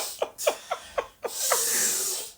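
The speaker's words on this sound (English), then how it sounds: "my sister's making sniffing sounds" A person sniffing repeatedly, six short sharp nasal inhales in an uneven rhythm, close by, followed by a longer breathy exhale-like hiss.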